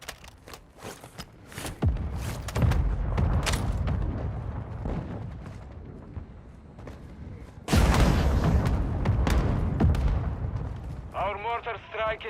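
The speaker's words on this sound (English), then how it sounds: "Our mortar strike is inbound." Mortar strike explosions in the Call of Duty MW 2.0 video game: heavy, booming blasts erupt in two loud rolling waves with rumbling tails, between quieter stretches, and a brief game voice near the end.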